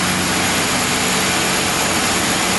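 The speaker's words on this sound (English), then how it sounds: "even with this just sitting here at an idle" Hemi Ram 2500 truck engine sitting at idle, a steady loud broadband rumble with a low hum, unchanging and close, with no talk.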